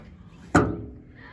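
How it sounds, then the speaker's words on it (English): Fuel door on a 1996 Chevrolet S10 pickup popping open, a single sharp close click-thud with a short decay, heard alone against quiet outdoor background. "And your fuel door."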